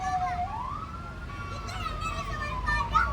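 A PT Semen Padang fire brigade truck sounds its siren while pushing through jammed city traffic to a building fire, a wailing tone rising and falling at moderate distance over street noise and nearby voices.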